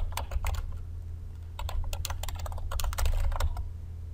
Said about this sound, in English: then you can just type in your text